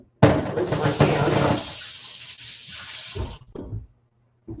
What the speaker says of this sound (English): Rinse my pan.